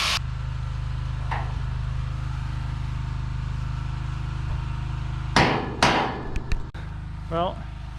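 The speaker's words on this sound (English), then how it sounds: "we had to use a rubber hammer and smash in each edge" A steady low hum runs throughout, then a few sharp knocks from a rubber mallet hammering a tiny house window frame land near the end, followed by a brief muffled voice.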